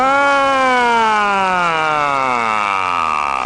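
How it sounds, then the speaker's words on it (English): A loud fire engine siren wails nearby, one long tone sliding steadily downward in pitch. "Through the streets of the city, 100 sirens sounded."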